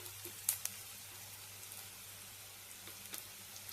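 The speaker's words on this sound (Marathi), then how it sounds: "इथेपर्यंत कांदा भाजून घ्यायचा" Chopped onion fries in a little oil in a pan, giving a faint, steady sizzle with a few soft pops and crackles, quiet and close with no talking.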